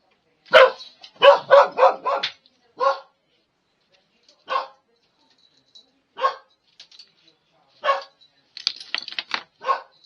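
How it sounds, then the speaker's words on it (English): A dog barks indoors in excited bursts, first a rapid cluster of four or five barks, then single barks spaced a second or two apart, fairly close and loud against an otherwise quiet room. "My dog's heard something and he's going bananas as usual."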